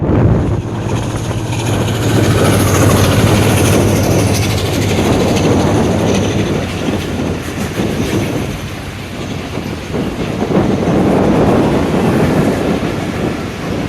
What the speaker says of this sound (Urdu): ریل گاڑی جا رہی ہے جی ریل گاڑی